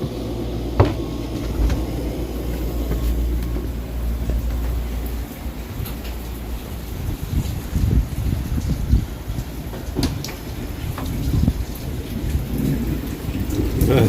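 Heavy rain and storm from Hurricane Ian in the Florida Keys around a trawler: steady pouring rain on surfaces, with deep thunder rumbles rising and falling and scattered sharp drips and knocks throughout.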